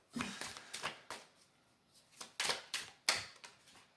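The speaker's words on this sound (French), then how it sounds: "J'ai de la difficulté aujourd'hui à battre les cartes" Tarot cards shuffled by hand, a series of crisp riffling bursts and soft flicks in an irregular rhythm, close and fairly quiet, with no voices.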